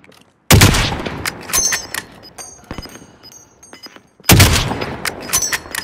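Suppressed HDR sniper rifle shots in Call of Duty Modern Warfare, two loud sharp reports a few seconds apart, each trailing into echoing debris and clicking game effects.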